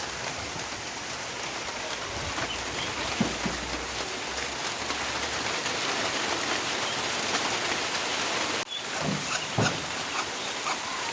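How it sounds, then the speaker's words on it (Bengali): Steady rain pours down outdoors at a village home, a dense continuous hiss of drops on surfaces at an even level, with no talking. "তো বৃষ্টি শুরু হয়ে গেল।"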